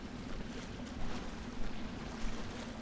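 A character drops into water in The Evil Within, giving a steady, wet, wash-like rush with low churning and a few slightly louder swells, heard alone without talk.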